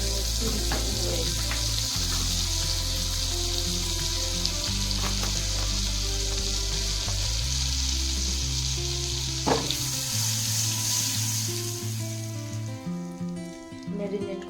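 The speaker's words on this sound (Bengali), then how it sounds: "কড়াতে দিয়ে দেবো 1 চামচ বাটার, বাটারটা মেল্ট হয়ে গেলে দিয়ে দেবেন সামান্য একটু রিফাইন্ড অয়েল" Butter and refined oil sizzling in a kadai, a loud, steady frying hiss with crackling pops, close and continuous, with soft stirring clinks and low background music underneath.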